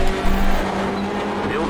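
A Hyundai Elantra race car pulls alongside at Knockhill in iRacing, its engine droning and shifting in pitch as it passes close, with a faint voice in the background.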